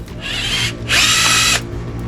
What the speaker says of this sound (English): I'm gonna take off electrical. Our nut driver.